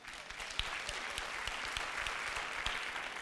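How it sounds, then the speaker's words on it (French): A theatre audience at a comedy stand-up show breaks into sustained applause, a dense clatter of many clapping hands held at a steady level for about three seconds with no one speaking. "applaudissez celles et ceux parmi vous qui pensent que c'est important de rincer la vaisselle"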